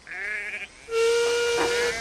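A steam locomotive whistle on a narrow-gauge railway sounds twice, a short bright toot followed by a longer, louder, sustained blast, close and clear with hissing steam.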